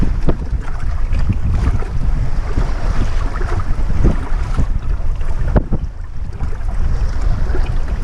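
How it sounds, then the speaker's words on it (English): Strong wind buffets the microphone aboard a sailboat, a constant loud roar mixed with water wash and waves against the hull, with no voices. "wind's picking up again a little bit"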